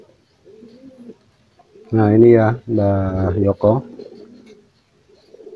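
Homing pigeons coo in a loft, a loud, close run of throaty, harmonic coos lasting about two seconds, with quieter talk before and after.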